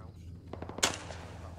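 Rifle shots ring out in a military video game, with a few quick cracks building to one loud, sharp report that trails off into a brief echo.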